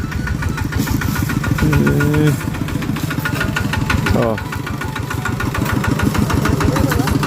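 A farm tractor engine chugs steadily nearby with a rapid knocking beat and a constant low drone, running the whole time while someone talks and exclaims over it.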